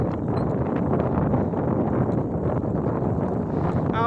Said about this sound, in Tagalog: napakasarap ng hangin dito mga vlogger